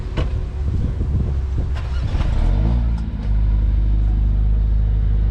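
A Mercedes-AMG A45S fitted with an OPF starts up. The starter churns briefly, then the engine catches into a close, steady, deep idle rumble.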